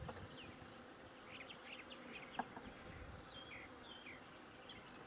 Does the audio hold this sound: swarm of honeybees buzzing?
yes